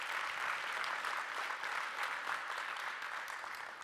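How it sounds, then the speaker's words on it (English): Audience applause at an esports event at Esports Stadium Arlington, a steady wash of clapping from a crowd, moderately distant and even throughout, fading slightly at the end. "So a round of applause for the Esports Stadium Arlington and what they've done in IGL altogether."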